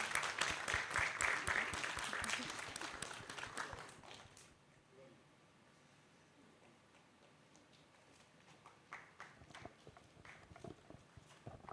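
Audience applause at a classical music festival concert, a burst of dense clapping for the announced performers that fades out after about four seconds, followed by quiet with a few scattered claps.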